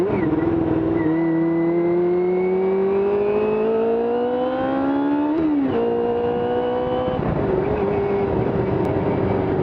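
A Kawasaki ZX-2R (ZXR250) motorcycle ridden around Hobart, its engine loud and close, rising and falling in pitch as it revs up through the gears with a couple of sharp shifts.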